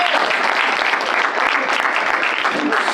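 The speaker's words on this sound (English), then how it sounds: "Let's give Sam a round of applause" An audience at a pizza event claps loudly and steadily for a few seconds, with a dense patter of hands and faint voices underneath.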